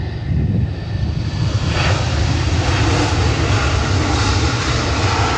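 A United jet airliner departs Fort Lauderdale-Hollywood International Airport on runway 10R, its engines holding a loud, steady, broadband roar throughout with no voices heard.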